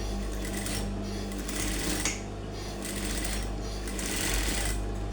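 Sewing machine stitching a smoke-colored crop top, running steadily with a continuous motor whir and rapid needle clatter throughout, close and alone with no talk.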